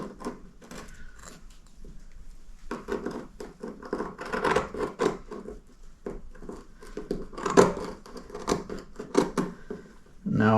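Crisp snipping and scratchy rustling as long, sharp scissors cut through teddy-bear-fur artificial grass, with irregular bursts of cutting and handling noise close by.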